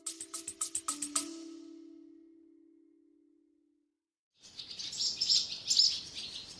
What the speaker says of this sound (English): Swallows flying into one of the large barns at High Ash Farm,